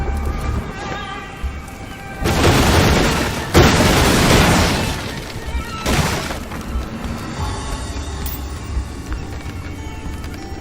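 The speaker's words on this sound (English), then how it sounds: "if something looks like it can be destroyed, it probably can. They can even chain react" Objects bursting apart in chain-reaction explosions in the Graven video game, two loud broadband blasts with crashing debris around the middle, then a third smaller burst, over a low game ambience.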